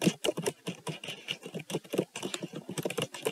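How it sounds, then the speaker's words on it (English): Rapid, uneven keystrokes on a Dell XPS 15 9510 laptop keyboard, close and fairly quiet, a steady stream of clicky taps with no talking. "Let's do some typing here."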